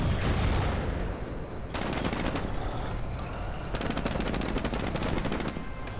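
Sustained bursts of automatic gunfire in a World War II video game battle against Panzer Grenadiers, with rapid overlapping machine-gun rattles and scattered shots, loud and continuous for several seconds.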